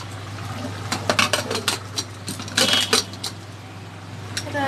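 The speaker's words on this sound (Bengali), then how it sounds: "এটা ঢেকে দেবো সেদ্ধ হওয়ার জন্য।" A metal lid and pot clatter with a series of short clinks and knocks over a steady low hum, covering a pot of peas set to boil for pav bhaji in a home kitchen.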